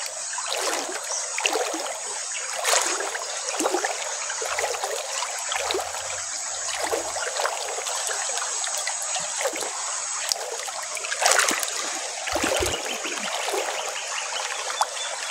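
A shallow stream runs over rocks beside the bank, a steady trickling and splashing flow that continues without pause throughout.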